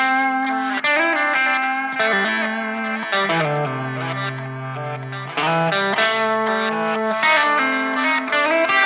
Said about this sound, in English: Reverse delay.